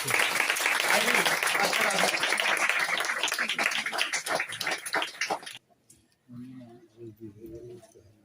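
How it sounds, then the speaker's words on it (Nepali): Applause from a church revival camp audience in Kathmandu, Nepal, welcoming the pastor: dense, loud clapping for about five seconds that breaks off abruptly, followed by someone speaking. "हामी सबैजना ताली बजाउने छौं"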